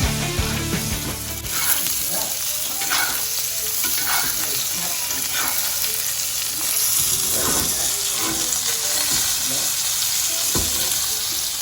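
A steak sizzles steadily and loudly in an iron skillet while it is basted, the constant frying hiss broken by scraping, spooning clicks and small splashes, with no voices.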